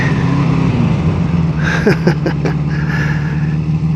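A 1973 Honda CB350 Four motorcycle engine drones steadily while being ridden, a constant close hum with wind noise and a brief run of quick pulses midway.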